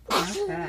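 In a kitchen during smoothie making, one person sneezes once, close and sharp, and a voice follows right after.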